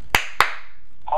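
Two sharp hand claps, a quarter second apart, given as a command to a MiP self-balancing robot; close and crisp with short decays, followed by a faint start of sound at the end.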